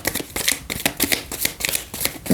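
A deck of playing cards is riffled and shuffled in quick repeated bursts, a crisp fluttering rattle recurring about every half second, close and fairly loud with no talking over it.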